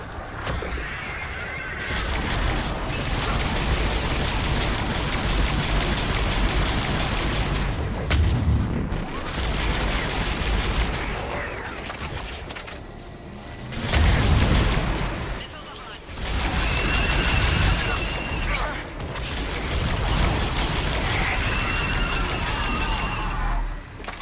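Missile launches and explosions in Mass Effect 3 combat, a dense, loud barrage of booms and blasts that runs almost continuously, with a brief lull and a heavy burst midway, under a game soundscape.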